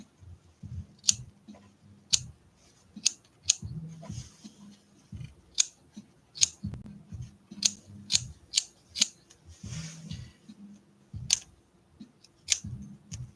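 Scissors snip through the backing of faux fur while finishing a leopard seal art doll's tail, a string of sharp, close clicks at an uneven pace over a low, soft rustle.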